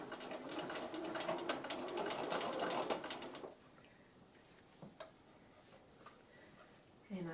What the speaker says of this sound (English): I'm going to do a back stitch to secure that